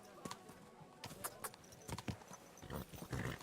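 A horse's hooves clip-clop in Kingdom Come Deliverance 2, irregular hoof strikes picking up toward the end, over a faint ambient bed with a voice briefly present.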